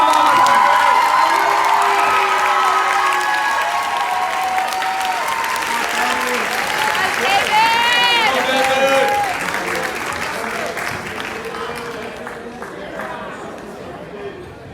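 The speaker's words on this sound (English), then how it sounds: "Can we please welcome David Wu with a big round of applause." Loud applause from a large crowd at a school sports banquet, mixed with cheers and chatter, gradually tapering off toward the end.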